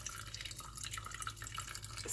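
Juice pours and drips into a bag in a quiet, steady trickle of small splashes and droplets lasting a couple of seconds, with no one talking.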